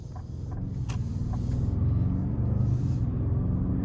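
Steady low engine and road rumble from inside a 2026 Lincoln Navigator Black Label on the move in a conservative drive mode, a continuous cabin drone that swells slightly as it gathers speed, with a few faint clicks and no talk.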